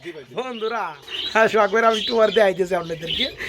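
Pigeons at a pigeon farm, a close series of rising and falling warbling coos and calls that follow one another over a few seconds.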